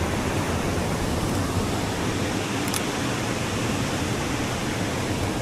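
Loud, unbroken roar of a swollen mountain river in the rainy season, heard up close as a dense, steady wash of rushing water with no speech.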